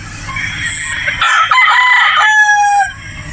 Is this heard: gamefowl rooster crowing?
yes